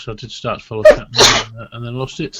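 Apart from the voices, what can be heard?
sneeze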